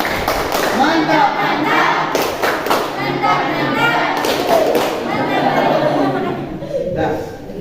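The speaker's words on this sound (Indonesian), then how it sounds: "Tepuk mantap." A class claps together in a rhythmic patterned cheer, sharp group claps and thuds in bursts mixed with lively chatter and laughter from students nearby.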